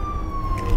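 An ambulance siren wails as a steady, slowly falling tone, loud and close, over a low rumble for under a second.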